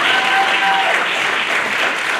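Graduates and guests clap at a public service school commencement ceremony, a full, even burst of crowd applause with no talk over it.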